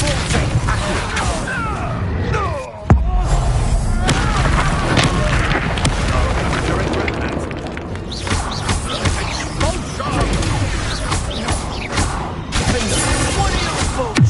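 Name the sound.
Confringo spell explosions in video game Hogwarts Legacy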